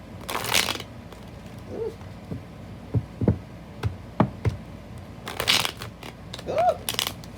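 Tarot cards are shuffled in quiet, irregular bursts of crisp riffling and tapping close to the listener, with soft vocal sounds between them.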